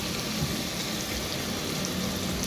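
Water poured into a pot of daal mash with tomatoes on the stove, a steady, even rushing and sizzling wash that runs without a break.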